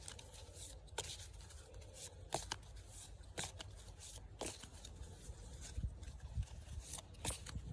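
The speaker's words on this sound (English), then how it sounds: "Easy to shuffle." Ashati Oracle cards being shuffled by hand, with repeated crisp riffles and sharp flicks at irregular intervals over soft rustling, close and fairly quiet.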